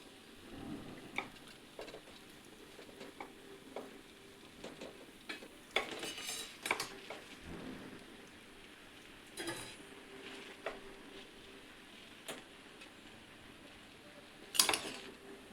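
Egg fried rice being stirred and mixed with cooked rice in a pan, heard as faint, irregular scraping taps and clinks of a utensil against metal over a soft background, with no talking.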